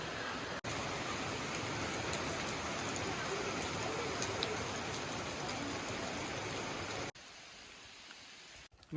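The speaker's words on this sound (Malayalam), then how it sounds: "ഇപ്പം ഇവിടെ നല്ല മഴയാണ്" Steady, dense rain pours down at Rosemala, a hill destination, as an even broadband hiss that holds for about seven seconds and then drops to a quieter patter. No one speaks.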